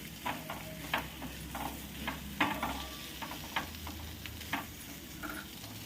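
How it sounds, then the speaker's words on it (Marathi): Boiled potato pieces sautéed with chili powder and salt in a pan for misal, a low sizzle under repeated spoon scrapes and taps on the pan, close and steady. "त्या फोडी आपण याच्यामध्ये घालू त्या परतून घेऊ म्हणजे त्याला तिखट मीठ लागलं जाईल"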